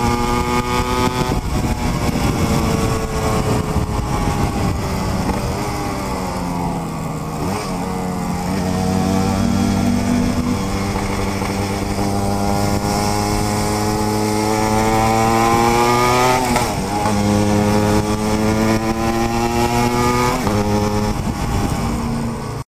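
A Yamaha DT200R two-stroke motorcycle fitted with a Gemoto exhaust revs and rides, its engine tone rising and falling steadily through the gears, loud and close for over twenty seconds.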